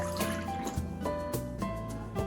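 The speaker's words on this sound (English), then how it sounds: "now we're going to add in our teaspoon of sugar, and our cup and 2 tablespoons of warm water." Warm water, a cup and two tablespoons, is poured into a bowl of yeast and sugar for dairy- and nut-free breadstick dough, giving a steady liquid trickle over about two seconds with no talking.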